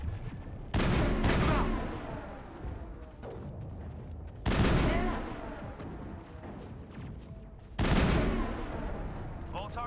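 Assault rifle gunfire in the Mass Effect video game: three loud, sharp bursts of automatic fire, each trailing into a rumbling stretch of continued shooting, close and dominant with no talking.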